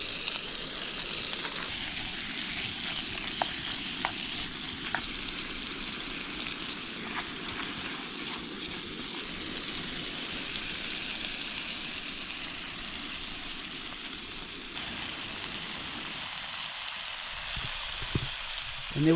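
Chamois meat sears in a hot pan, a steady, close, dense sizzle that carries on throughout, with a few faint clicks near the end and no voices.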